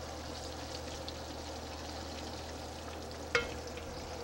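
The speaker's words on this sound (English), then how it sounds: "Now this goes right into the skillet." Battered, breadcrumbed snapper frying in a skillet, a quiet steady hiss of oil with one brief sharp clatter near the end.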